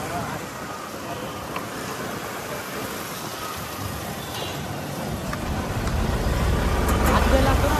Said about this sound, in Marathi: आज ट्रॅफिक लई आहे